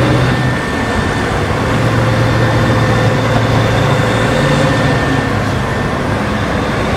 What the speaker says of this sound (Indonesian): Mobil forklift besar.